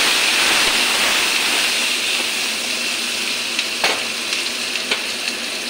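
Fish for chilli fish frying in hot oil in a pan with garlic, salt and turmeric, a loud, steady close sizzle with a few sharp pops and spits near the end.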